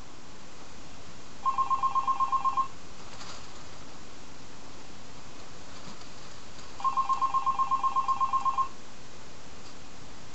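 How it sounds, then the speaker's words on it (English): A telephone rings in two separate bursts of fast, trilling bell pulses with a quiet gap between them, clear and steady over soft background hiss, with no one talking. "Don't answer the phone, let me answer it!"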